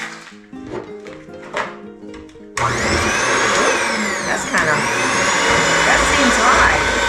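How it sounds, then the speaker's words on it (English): Cake batter with vanilla is beaten with an electric hand mixer, which starts after a few seconds of quiet clinks and talk and then whirs loudly and steadily at close range, its pitch shifting slightly. "We're going to give these a mix with the hand mixer."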